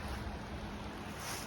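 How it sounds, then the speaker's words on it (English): Water flows steadily along a creek in a wooded park, a constant broadband rush without breaks and with no one speaking. "stream here. I think this is Dingman's Creek."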